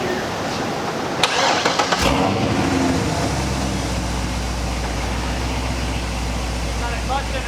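A 2007 Chevrolet C6 Corvette Z06 with headers and intake, making 479 horsepower at the wheels, fires up with a sharp crank and catch, then settles into a loud, lumpy idle close by, with voices talking over it.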